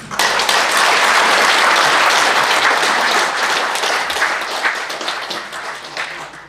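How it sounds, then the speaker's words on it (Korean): An audience at an alumni association's annual general meeting applauds to welcome its newly elected eighth president: a loud, dense burst of clapping that holds steady, then thins and softens slightly toward the end. "동의하시면 박수로 어, 환영해 주시기 바랍니다"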